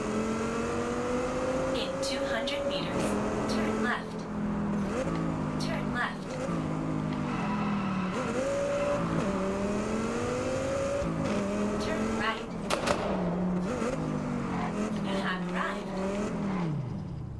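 An upgraded car engine revs in the Test Drive Unlimited Solar Crown racing game. It rises and falls through repeated climbing revs and gear shifts, loud and continuous, with someone talking over it.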